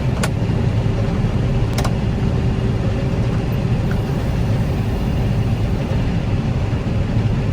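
Loud, steady engine rumble of a combine harvester unloading barley into a grain cart in Montana, a constant mechanical drone close by with a couple of brief clicks and no voices.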